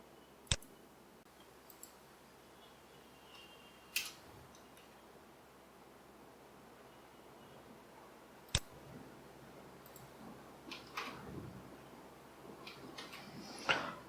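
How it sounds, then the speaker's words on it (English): Mouse clicks on a computer in a quiet room while working on a form in Visual Studio, a few isolated sharp clicks spaced seconds apart with faint rustling between them. "double click anywhere on the form to generate the event handler"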